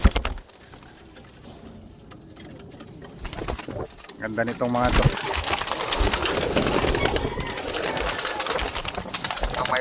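Racing pigeons coo in their loft, soft repeated throaty calls that thicken into a busy chorus partway through, while someone speaks over them.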